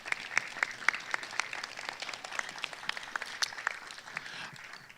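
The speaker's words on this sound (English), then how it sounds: "Let's give ASB a nice hand of applause." Audience at a high school graduation ceremony claps steadily, a dense crowd of hands with sharp individual claps standing out, sustained and moderately loud throughout with no talk.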